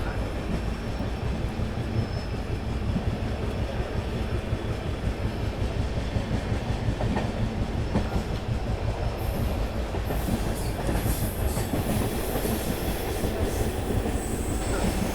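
The Rajasthan Sampark Kranti Express passenger train rolls steadily along the tracks nearby between Delhi and Jodhpur, a continuous rumble with rhythmic wheel clatter and a few high metallic squeals near the end.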